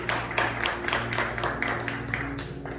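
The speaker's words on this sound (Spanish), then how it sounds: "Dale un fuerte aplauso al Señor Jesucristo." A church congregation applauds in praise, a steady patter of many clapping hands over a low, sustained hum, with no talk.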